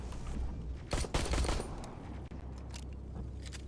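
A short burst of rapid gunfire aimed at a spider scout robot in the video game Terminator: Resistance, several sharp shots clustered together, followed by quieter mechanical clicks and scraping.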